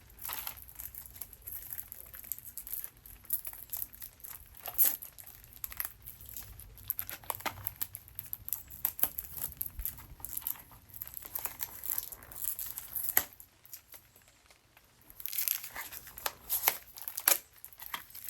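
Plastic wrapping being torn and crinkled open in a quiet room, with intermittent close crackles and rustles, a brief lull, then more crinkling.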